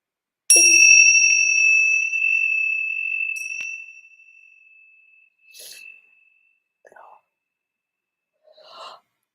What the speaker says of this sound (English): let's have a little extra bell.